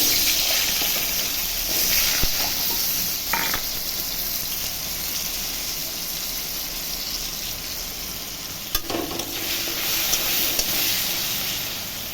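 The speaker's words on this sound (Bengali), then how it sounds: "কড়াই তেল দিচ্ছি মাছের ঝোল করার জন্য। এই যে আলুগুলো ভেজে নিচ্ছি।" Potatoes frying in oil in a wok for a fish curry hiss in a steady, even sizzle with a couple of brief knocks, and no one speaks.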